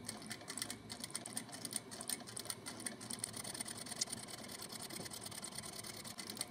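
A sewing machine runs steadily, stitching a quarter-inch seam along a simple scarf, its fast even needle chatter continuous and close with no talking.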